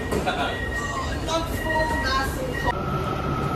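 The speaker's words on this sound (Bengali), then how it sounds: "চলে গেল ট্রেন" A Kuala Lumpur metro train rumbles and hums as it pulls away, with rising electric whines and rail noise close by, voices talking underneath.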